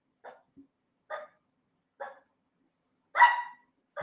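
A small chihuahua barks sharply five times at roughly one-second intervals, the last bark louder and longer, each yap clear and isolated against quiet background.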